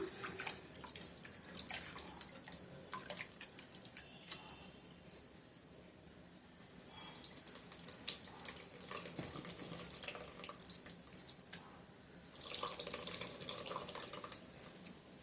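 Tamarind water being poured into a fish curry mixture in a home kitchen, a steady close trickling and splashing of liquid that swells and fades over the span, with no talking.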